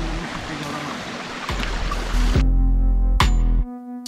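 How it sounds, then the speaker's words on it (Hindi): A small waterfall on the Bahl river near McLeodGanj rushes steadily, with broadband water noise partly masked by loud handling thumps and a low mechanical hum toward the end. "ये झरना बह रहा है ये,"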